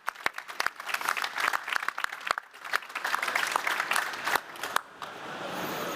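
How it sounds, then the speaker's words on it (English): Audience at a robotics competition round table applauds the teams, dense sustained clapping with some sharp individual claps, moderately loud and continuing throughout before easing slightly near the end. "applause for the teams"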